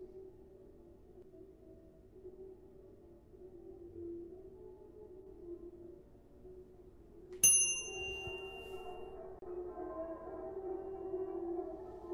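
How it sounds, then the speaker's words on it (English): A single bright bell ding rings out sharply partway through, ringing on briefly over a low steady ambient hum in a British detective video game set at the Isle Tide Hotel. "Ring the bell."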